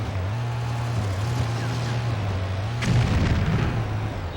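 An explosion in the PlayStation 2 game Stuntman lands as a sudden loud crack that swells into a low rumbling burst over a steady droning car engine.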